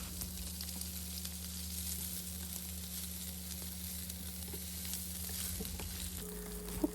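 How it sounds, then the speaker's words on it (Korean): Ham frying hard in oil in a pan for homemade gimbap fills the whole stretch with loud, continuous close-up sizzling and crackling, and a few light stirring touches come near the end. "이제 계란은 익고 다시 기름을 둘러줄 거예요. 햄을 튀긴다는 생각으로 바짝 볶아주세요."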